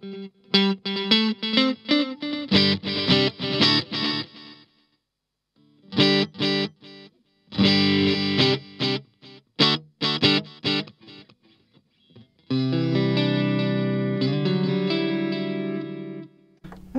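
Electric guitar through a Blackstar amp with a delay effect, played in bursts of repeated notes and chords that echo and trail off, the delay speed shifting between phrases before a longer sustained, echoing passage.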